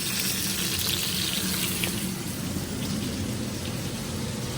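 Chicken pieces laid skin side down in a hot pan for Moroccan chicken, giving a steady, dense crackling sizzle like heavy rain. The sound holds even and unbroken, close up and alone.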